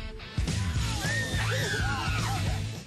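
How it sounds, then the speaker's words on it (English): A high-pitched welcoming shriek rings out amid a lively group, wavering up and down in pitch over a couple of seconds, with low thumps and bustle underneath. "That high-pitched shriek you hear means welcome."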